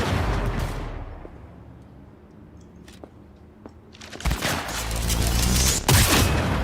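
Sniper rifle fire in the video game Cyberpunk 2077: a loud burst of shots opens, then a quieter lull, then heavy, sustained gunfire returns.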